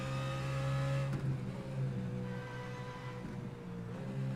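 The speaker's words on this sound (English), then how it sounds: "That'd be the Ford. It's compressor sound." Ford GT race car in a racing video game, its engine revving with a whining, compressor-like tone, pitch shifting up and down through gear changes as the car accelerates, loud and continuous with no voices.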